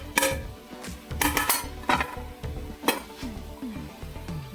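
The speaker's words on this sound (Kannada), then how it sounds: "ಈಗ ಮೆಣಸು ಹಾಕ್ತೀನಿ, ಕ್ಯಾಪ್ಸಿಕಮ್ ಹಾಕ್ತೀನಿ." Chillies and capsicum tossed into a pan and stirred for chilli chicken, with a run of metallic clinks and scrapes from the spoon against the pan over a soft sizzle, close and fairly quiet, with no talking.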